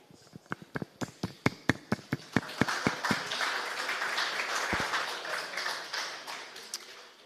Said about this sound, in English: So let's give a big applause to Marian.